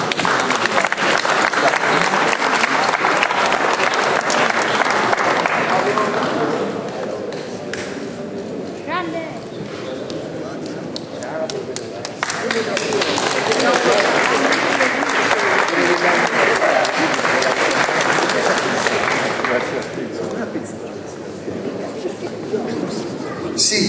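Sustained applause from an audience at an award evening for the ninth Del Rosso prize in Empoli, loud and steady for about seven seconds, easing, then swelling again before fading, with voices mixed in.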